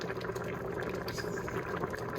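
Black-eyed peas simmer at a steady boil in a pot, a continuous close bubbling and gurgling of thickening broth with no voices over it.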